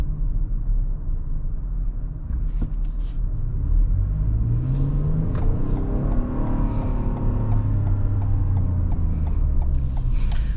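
A Toyota Highlander's 3.5-litre V6 with an 8-speed automatic hums and rumbles from inside the cabin while driving, swelling as it revs with steadily rising pitch over constant road noise, no talk.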